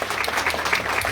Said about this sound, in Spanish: Un aplauso para Isaac también